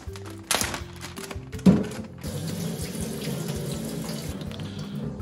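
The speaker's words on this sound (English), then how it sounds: "We're gonna rinse off these guts from before." Water from a tap runs steadily into a sink while koi fish guts are rinsed, with a couple of knocks and splashes at the start before the stream settles into a continuous close hiss.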